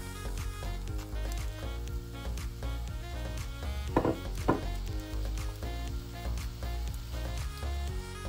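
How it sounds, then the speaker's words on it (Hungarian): Spinach fries in a thin film of hot oil, giving a steady close sizzle with a few louder crackling bursts near the middle, and there is no talking. "A forró olajra rátesszük a spenótot."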